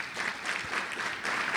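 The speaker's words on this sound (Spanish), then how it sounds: "Denle un aplauso al Señor si lo cree." Church congregation applauding at a Pentecostal evangelistic service, a steady, fairly loud wash of many hands clapping that swells near the end, with no talk over it.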